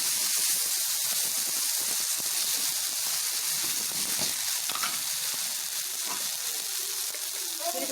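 Chicken kari dosa frying on a pan over medium flame, giving a steady, close sizzle and hiss of hot oil that runs throughout, with faint clinks and stirring touches.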